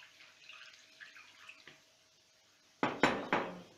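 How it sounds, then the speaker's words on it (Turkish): Water poured into a jar of peppers being pickled in brine, heard as a few loud splashing, clattering pours close by after a quiet stretch. "Şimdi suyumuzu da ilave ettik."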